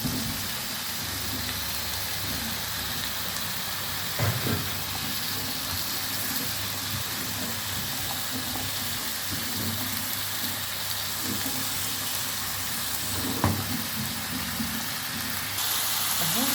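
Potatoes with vegetables and garlic fry in a pan, giving a steady, dense sizzle close by with a couple of faint knocks and no talk over it.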